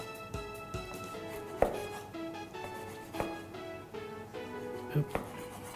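A knife slicing grilled chicken lengthwise into thick pieces, skin side down, on a cutting board, a few spaced thuds over soft background music.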